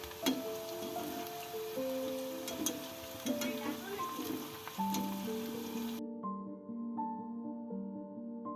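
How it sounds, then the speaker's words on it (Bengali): Raw banana chips fry in oil over a low flame until deep brown, giving off a soft, rain-like crackle beneath melodic background music. The sizzle fades out about two-thirds of the way through, leaving only the music. "একদম গাঢ় বাদামি রঙে কলার চিপসগুলোকে আমি ফ্রাই করে নিচ্ছি"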